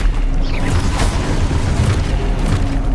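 Expulso explosion spell cast in Hogwarts Legacy, a deep, rumbling boom that fills the whole clip with dense low-end roar and crackling burst, loud and sustained with no talking.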